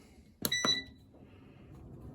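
A food dehydrator drying lemons is switched on and gives two short, bright electronic beeps in quick succession, close and clear over a quiet background, followed by a faint low hum.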